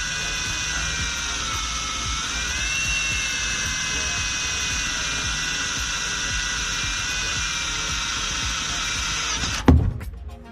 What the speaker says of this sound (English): it breaks my heart to drill a hole in a perfectly good transmission pan like that